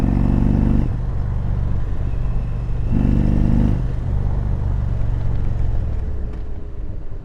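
A 2020 Indian Roadmaster Darkhorse motorcycle rumbles loudly and steadily while riding through curves in standard mode, its deep engine drone swelling and easing with the throttle.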